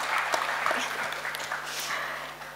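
A press conference audience claps in a dense, steady round of applause, moderately loud and sustained with scattered sharper hand claps throughout.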